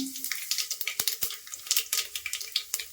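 Cumin and mustard seeds sizzle and pop in hot oil for a sambar, a quick run of sharp crackles and spits close by, with faint stirring and no voice.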